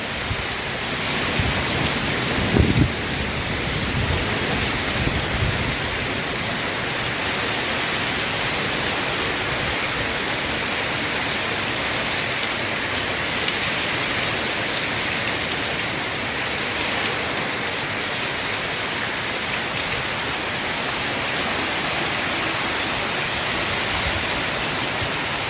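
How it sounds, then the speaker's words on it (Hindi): Heavy rain pours down steadily in stormy, windy weather, a dense constant roar of drops on surfaces that stays loud and even from start to finish, with no voices. "अभी देख सकते हैं कितनी तेज बारिश हो रही है, आंधी भी है।"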